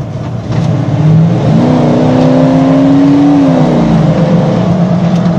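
A 1995 Ford Bronco Eddie Bauer engine rumbles and then accelerates hard from about 30, a loud close drone whose pitch climbs steadily, holds, then drops back as it eases off.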